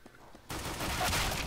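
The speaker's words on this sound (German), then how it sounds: "Zwei Schüsse, zwei Headshots." Gunfire in a competitive CS:GO match on the Zoo map bursts in suddenly and continues as loud, dense shooting to the end, with no talking.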